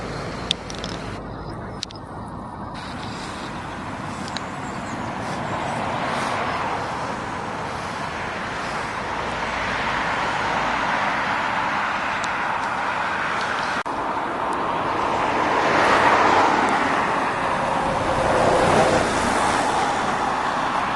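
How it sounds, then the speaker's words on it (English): Heavy morning traffic rolls along a dual carriageway into Aberdeen, with cars, buses and trucks, a continuous dense roar of tyres and engines that swells as vehicles pass close by, with no talking. "Cars cross over the dual carriageway. It's busy at this time in the morning, early morning."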